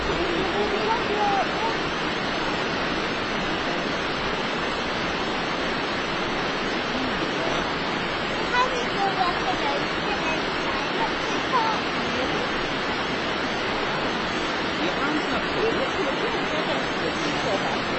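A waterfall in winter roars as a dense, steady broadband rush, close and loud, unchanging throughout with no voices.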